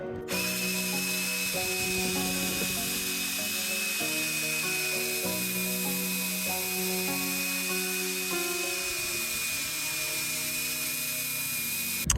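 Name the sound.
power drill with scrub brush cleaning a floor mat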